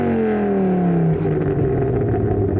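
A Ford Focus ST engine, still warm, revs up and then falls back as a single loud, continuous sweep with no voices over it.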